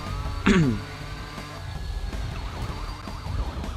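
A wailing police car siren in the video game Watch Dogs sweeps up and down in the background, faint and continuous, after a brief sharp chirp near the start.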